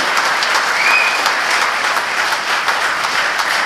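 A large crowd at a Tamil political rally applauds steadily, a dense, loud, even wash of clapping with no talk over it.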